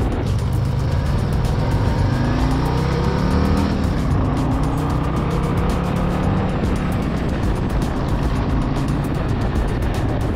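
A 2024 Harley-Davidson Road Glide motorcycle on a test ride along back roads in Gaithersburg gives a loud, continuous engine drone that rises and shifts in pitch as it accelerates, with steady wind rush and no talk.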